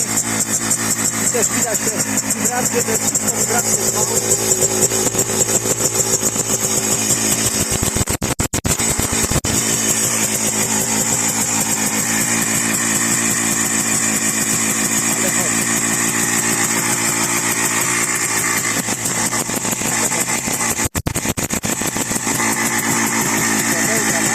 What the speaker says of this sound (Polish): Jak widzicie, motocykl chodzi